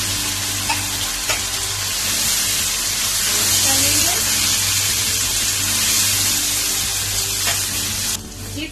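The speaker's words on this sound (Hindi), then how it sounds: "गोश्त को हमने इसमें फ्राई किया है।" Beef pieces sizzle and fry in a pan with garlic ginger paste for nalli beef biryani, a steady loud crackling hiss with occasional stirring scrapes, no talk.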